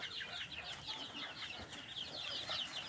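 Chickens clucking softly on a poultry farm, a continuous chorus of overlapping clucks and chirps, faint with no speech.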